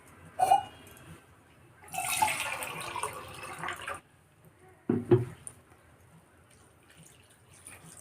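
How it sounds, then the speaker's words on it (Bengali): Hot water is poured into a jackfruit curry in short bursts, giving a splashing, gurgling rush, then a pause and another quick pour with wet sloshing, heard nearby with no talk. "দেখি আর একটু জল দেব।"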